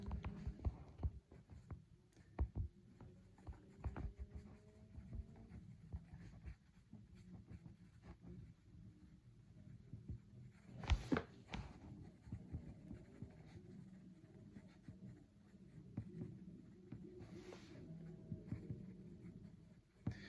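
A pencil scratches on paper in a quiet room, soft irregular strokes running throughout, joined at times by a dog panting and whimpering nearby.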